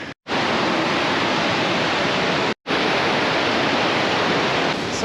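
A mountain river rushes loud and steady beside the Lost Lake trail from Hessie Trailhead near Nederland, Colorado. Its continuous roar breaks off twice for an instant.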